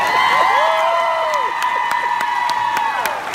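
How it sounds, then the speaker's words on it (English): Convention panel audience at San Diego Comic-Con breaks into loud, sustained applause with cheering and whoops, a dense crowd roar filling the room throughout. "So let's give them a big round of applause for their hard work and effort."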